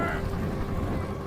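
Outboard engine of a small fishing boat running steadily on the Nile, a continuous low motor drone with water noise, close and fairly loud throughout.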